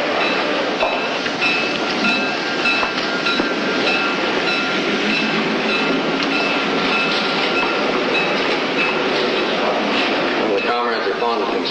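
A train rumbling along the rails with a steady clatter and occasional squeal of wheels, loud and close throughout.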